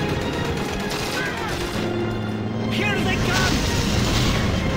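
Dense gunfire and explosions roar through a Call of Duty battle at a train station, a continuous loud wash of shots and booms with no clear breaks.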